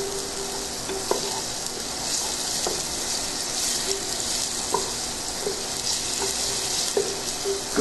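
Carrot sautéing in about two tablespoons of avocado oil in a pot gives a steady, soft sizzle, with a few light clicks of stirring scattered through.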